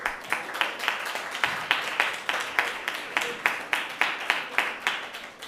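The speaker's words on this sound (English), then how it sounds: "A round of applause for them as well" Audience clapping after a debate match between the Ministry of Health and Wellness and the Judiciary of Jamaica, rhythmic and fairly sparse. Claps fall in a steady, near-unison beat and stay moderately loud throughout.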